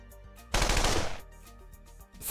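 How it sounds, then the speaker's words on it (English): Video-game airstrike gunfire, a single loud dense burst of rapid shots lasting under a second, then a quiet gap before another sharp sound at the very end. "I'll order the airstrike now"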